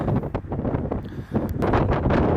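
Wind buffeting the microphone on an outdoor car dealership lot, a loud, continuous low rumble with gusty swells and no clear voices.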